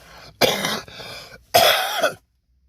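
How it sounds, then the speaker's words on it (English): Two harsh, raspy coughing bursts close to the microphone, separated by a short pause, with no talking. "Here comes the morning cough again."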